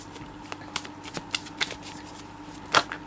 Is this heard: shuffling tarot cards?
yes